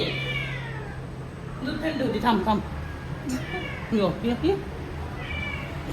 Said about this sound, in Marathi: आमच्या दारामध्ये ना ही मांजर येऊन बसलेली